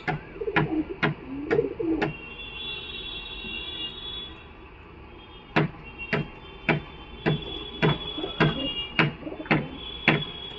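Low pigeon coos at the Galiff Street pigeon market sit beneath a series of sharp, evenly spaced clicks or taps, with a thin high tone drifting in and out of the background.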